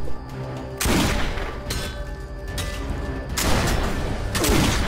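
Gunfire in the game Risen 3: Titan Lords: four loud, heavy shots spaced about a second apart, each with a booming tail over steady background ambience.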